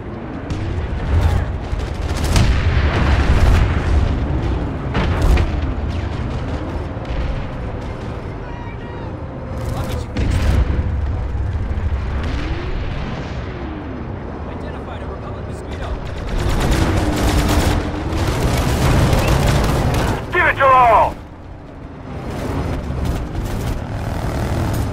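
A shield generator is blown up in PlanetSide 2 amid a battle: booming explosions and gunfire over droning aircraft engines, with a heavy blast near the end and voices talking throughout.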